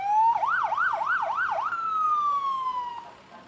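A nearby emergency vehicle siren from the Stoddard County Ambulance or Bloomfield Fire and Rescue in a county fair parade, rapid warbling yelps sliding into one long falling wail, loud and clear with no speech.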